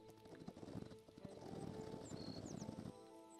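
Horse hooves clip-clop at a steady trot across open plains in the Hytale video game, with quick rhythmic close-up footfalls over faint wind and ambient game sounds.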